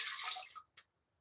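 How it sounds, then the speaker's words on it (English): Water poured into a blender jar during a kava-infused magnesium lotion preparation, a bright splashing pour that tapers off within a second, followed by a few faint drips. "So I'm going to add my water."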